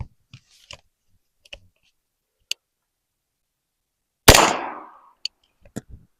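A single sharp AR pistol shot fires a 9mm Federal HST 147-grain round into ballistic gel, a loud close crack with a short decay, set among scattered faint clicks and handling noises.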